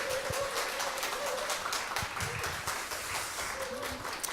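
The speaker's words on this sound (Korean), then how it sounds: "큰 박수로 맞이하겠습니다." A church congregation applauds to welcome a pastor, dense steady clapping from many hands filling the room at moderate level, with a faint tonal hum running beneath and no speech.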